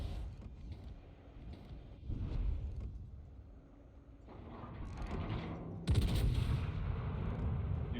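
Naval gunfire from the ship Sun Yat-Sen in a video game, heard as deep rumbling booms over continuous low engine and sea noise. A heavier blast hits near the end.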